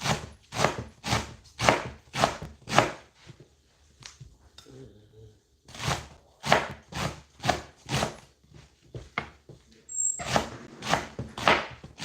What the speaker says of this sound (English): slicing our vegetable, or say cutting our vegetable